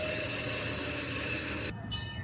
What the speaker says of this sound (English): And here comes the train, backing into the station.